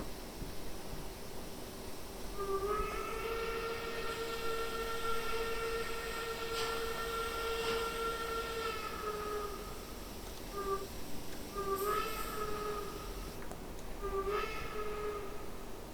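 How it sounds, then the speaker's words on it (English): Steam whistle of an 1885 Dom Pedro 2-10-0 locomotive in a train simulator, a long steady chime-like blast of several seconds followed by two shorter toots, sounding clearly over a constant rumbling background. "It's honestly one of the best sounding Hooters in Train Simulator overall."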